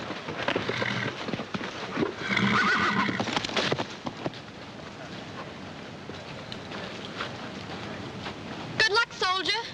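A horse whinnies loudly near the end over steady clip-clopping hooves and outdoor bustle in a 1941 army camp comedy scene, with voices talking in the background.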